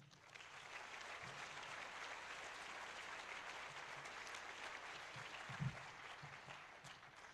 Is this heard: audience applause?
yes